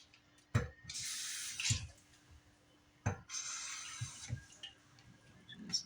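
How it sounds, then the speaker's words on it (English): Two bursts of water pouring into a roasting pan holding Cornish hens, each a few seconds long, with clunks of the pan being handled between them, close by and fairly quiet. "I'm going to put just a little bit of water in the bottom."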